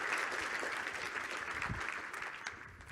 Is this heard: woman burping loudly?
no